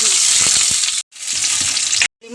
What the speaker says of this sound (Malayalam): ഉള്ളി ഇടണം